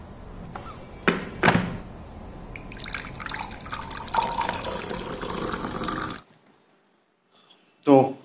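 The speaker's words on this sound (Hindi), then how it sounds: "तब तक मैं थोड़ा सा गर्म पानी पी लेता हूँ।" Warm water is poured for drinking, with a few knocks and clinks followed by a few seconds of close pouring and splashing, a short silence, then a brief loud clatter at the end.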